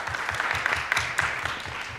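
Audience at a youth forum applauding steadily, dense even clapping from a crowd at moderate volume, continuous for the full two seconds with no talk.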